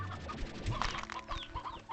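Chickens cluck in the farm video game Slime Rancher 2, a busy mix of short fowl calls layered over steady game background sound for about two seconds.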